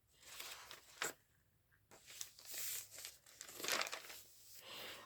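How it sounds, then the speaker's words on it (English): Parchment paper crinkling and rustling as it is handled, with several sharp crackly bursts and quieter crumpling between them, close and fairly soft. "Parchment paper."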